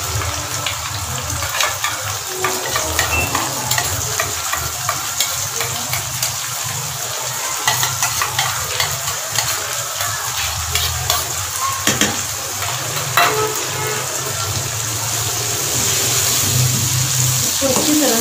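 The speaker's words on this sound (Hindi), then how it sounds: "अच्छी तरह से भूनें ताकि हमारा ऑयल निकल के बाहर आ जाए" Chicken karahi masala paste frying and being stirred in ghee, a steady close sizzle with repeated scraping strokes of a spoon against the pan throughout, some faint background voice.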